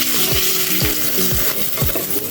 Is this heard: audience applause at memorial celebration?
no